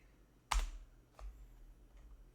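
A computer keyboard key is pressed while editing a Microsoft Word document: one sharp, close click, then a fainter second tap about a second later, over a quiet room.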